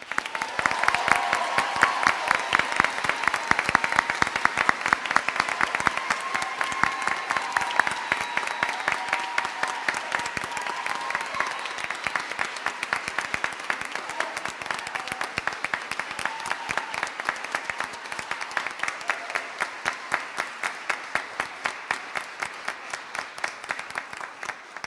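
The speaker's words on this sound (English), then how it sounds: "Please join me in giving the class of 2021 another round of applause." A commencement audience applauds the class of 2021, a large crowd clapping loudly and steadily throughout, with the sound thinning slightly toward the end.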